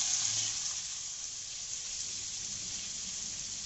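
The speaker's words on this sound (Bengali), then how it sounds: "এবার ওই তেলে আলুগুলো ভাজার জন্য ছেড়ে দিলাম।" Potato pieces frying in hot oil while cooking chana masala, a steady close hiss and sizzle that holds evenly throughout with no talking.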